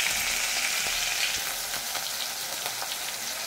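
Chopped onion and green chilli frying in a pan until browned, a steady broad sizzle with occasional soft stirring clicks, close and continuous throughout with no talking.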